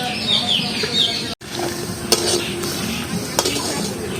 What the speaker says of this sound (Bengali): চিনিটা ফুটে উঠবে আর এইভাবে নাড়তে থাকবে।